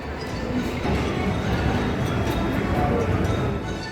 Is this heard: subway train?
yes